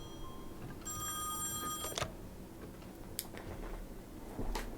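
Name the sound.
telephone ringing in the video game Song of Horror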